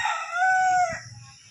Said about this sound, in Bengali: মুরগি ডাকছে পাশে কোয়ার্টারে